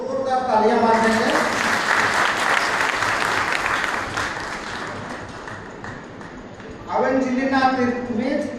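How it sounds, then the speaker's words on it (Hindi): Loud audience applause at a school award ceremony honouring students: a burst of dense clapping sits between stretches of amplified speech and fades slightly before the voice returns. "जोरदार तालियां मार देंगे।"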